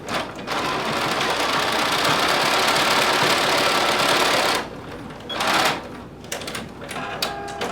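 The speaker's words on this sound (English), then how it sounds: "we're going to sew along the short side using 5/8 of an inch seam allowance" A sewing machine runs in a fast, even whir as it stitches fabric bands along a short side with a 5/8-inch seam allowance, stops, then starts again for a short backstitch burst.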